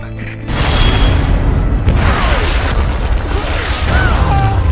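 Artillery fire in a war battle: a sudden booming blast sets off a loud, continuous roar of explosions and crashing that rumbles on for several seconds.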